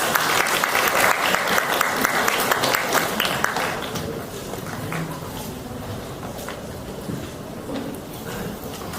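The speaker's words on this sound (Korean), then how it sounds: "뜨거운 박수로 모시겠습니다" Warm audience applause at a regional welfare workshop in Jeonbuk as a rehabilitation centre director is welcomed, loud dense clapping that thins and fades over several seconds, with a few scattered claps and faint crowd murmur at the end.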